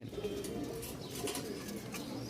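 A pair of young Rajshahi Giribaz pigeons coo softly at close range in a low, continuous murmur, with a faint flutter and no talking.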